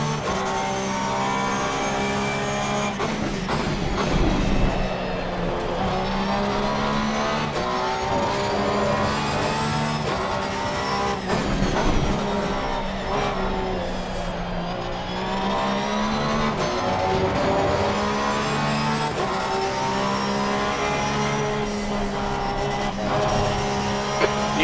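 Porsche race car engine in the Assetto Corsa Competizione racing game at Watkins Glen, a loud, continuous high-pitched engine wail that rises and falls through gear changes with no talk over it.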